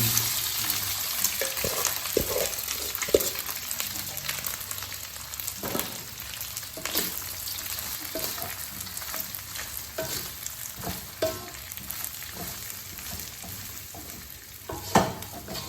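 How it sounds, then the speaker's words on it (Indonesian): Rice fries in plenty of oil in a pan for a simple nasi goreng. A dense, steady sizzle runs throughout, broken by sharp scraping knocks from a spatula, close up and with no speech. "Ini biarin aja minyaknya banyak biar mantap guys. Jadi nasinya benar-benar digoreng."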